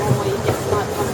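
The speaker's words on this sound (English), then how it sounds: "Zooming on the old train." An old train, seen near Exbury Gardens, rolls past with a steady low rumble and faint rhythmic rail clatter, moderately close and continuous throughout.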